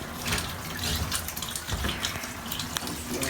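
Water gushes steadily from a tap into a home beer-brewing setup for a Corona clone, a continuous broadband rush that stays close and fairly loud throughout with no voices.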